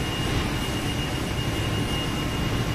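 A steady, loud roar from an airliner jet engine beside an airport jet bridge at Guarulhos, a constant broadband whine with no breaks and no voices.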